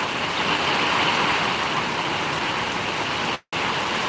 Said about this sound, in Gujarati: ખૂબ સરસ મજાનો વરસાદ અત્યારે પડી રહ્યો